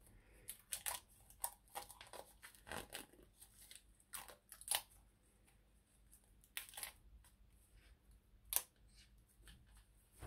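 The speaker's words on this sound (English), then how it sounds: "let's go ahead and try to open the box, take off this plastic" Plastic film is peeled and torn off an Apple AirPods 2nd generation box, giving close, quiet crinkles and sharp tearing snaps that come in scattered bursts with short gaps between them.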